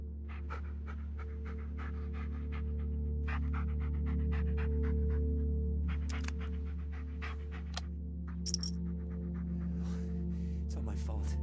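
A dog pants steadily and quickly in the Blair Witch video game, close and continuous, with faint scattered ticks and rustles over a low ambient drone.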